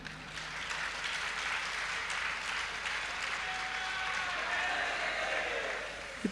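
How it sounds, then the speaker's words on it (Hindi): An audience at a spiritual discourse claps in sustained, dense applause that holds steady for several seconds before tapering off at the end. "ताली क्यों बजा रहे लोग?"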